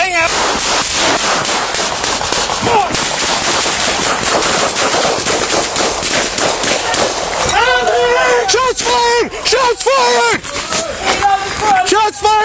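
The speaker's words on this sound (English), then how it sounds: "Shots fired!" Rapid bursts of loud gunfire crackle in quick succession during a police confrontation with criminals, with shouting voices breaking in over the shots toward the end, captured on a police dashcam.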